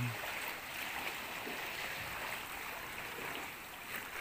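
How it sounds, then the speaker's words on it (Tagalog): Water waves wash and slosh around a boat out on the water at night. The sound is a continuous, fairly close rushing and splashing noise with no voices. "So, medyo malalaki lang yung alon na yun."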